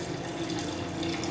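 Water poured steadily into a sump pit during a pump test, a constant close splashing rush with a faint mechanical hum beneath, no voices.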